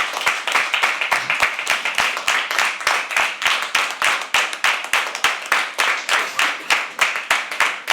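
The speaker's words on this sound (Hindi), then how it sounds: "तो गाइस स्टार्ट क्लैपिंग प्लीज" Steady, fast rhythmic clapping from an audience at a live poetry open mic, crisp and loud, continuing evenly throughout.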